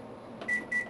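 A microwave oven running with a lighter inside gives a steady hum, broken by two short electronic beeps close together.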